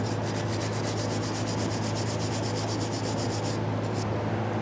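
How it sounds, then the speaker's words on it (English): Steady, continuous abrasive scrubbing of a wire brush or sanding disc cleaning the hub surface of a 2009-2014 Nissan Maxima during a front brake job, close and even, with a constant hum beneath it and a brief pause near the end. "You can use a wire brush or even a sanding disc if necessary"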